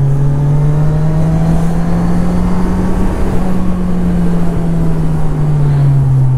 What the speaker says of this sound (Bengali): তো ঠিক আছে, দুটো বাইক একসাথে বেরিয়ে যাব।